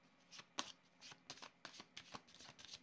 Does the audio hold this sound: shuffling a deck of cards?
yes